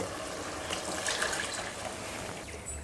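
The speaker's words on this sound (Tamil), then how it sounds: "இப்போ குழம்புக்கு தேவையான தண்ணி சேர்த்துடலாம்." Water poured into a pot of tamarind curry cooking with okra, a steady close splashing and trickling stream that runs evenly for about three seconds with no talking.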